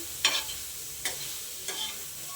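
Three quiet scraping strokes of a spatula stirring vegetables dry-roasting in a pan for thecha, spaced about a second apart over a soft steady hiss.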